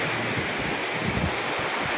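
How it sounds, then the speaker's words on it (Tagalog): Large ocean waves crashing on a beach in strong wind, a dense steady roar with wind buffeting the microphone, loud and unbroken, with no one talking. "Ayun po yung alon mga kainday."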